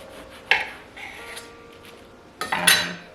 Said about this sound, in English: I'm just gonna cut like some really thick slices